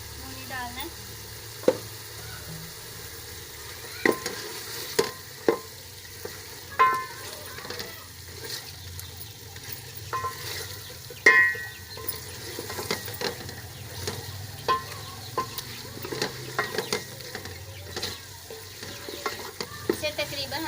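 Beef with spices roasting in a pan produces a soft, steady sizzle while a spoon scrapes and knocks against the metal in frequent irregular strokes.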